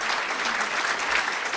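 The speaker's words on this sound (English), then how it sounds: "Round of applause before they start." An audience at a public event applauds, dense continuous clapping from a crowd, steady and fairly close for the whole stretch with no break.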